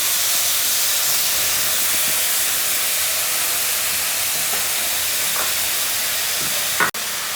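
Steady loud sizzling hiss from garlic and ginger paste added to a hot pan, continuous throughout, with a brief clatter near the end.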